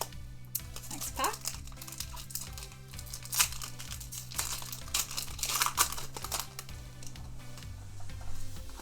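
A Pokémon trading card booster pack is torn open, with close, busy crinkling and ripping of the foil wrapper over a low steady tone, rising into louder rustles toward the end.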